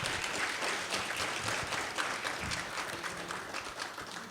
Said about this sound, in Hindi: जी, ज़ोरदार तालियां।